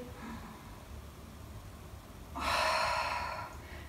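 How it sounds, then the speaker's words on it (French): A deep, audible inhale during a stretching exercise, one long breath drawn in through the nose and mouth after a quiet stretch, close and clear. "Inspirez."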